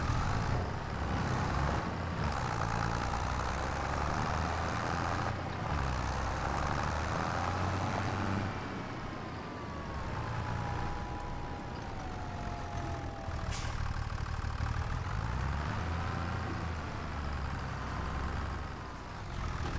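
Tractor engine idling in Farming Simulator 25, a steady low rumble that runs evenly for the whole stretch with slight shifts in pitch and no voices.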